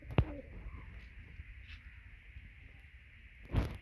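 Pigeons in a loft give soft, low coos, a few scattered calls spread over several seconds, with sharper sounds of movement near the start and the end.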